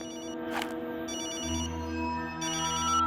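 A cartoon phone rings with a cousin's call, bright repeating electronic ringtone bursts with a brief swoosh effect, clear and close, no voices.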